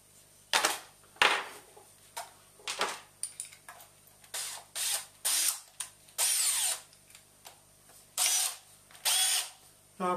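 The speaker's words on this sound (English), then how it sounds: "what I'm doing now is I'm going to drill it for the dowels to join up together" Repeated short bursts of a power drill whirring up and stopping while drilling dowel holes in boat hatches, about a dozen runs of varying length with brief pauses between, close and loud.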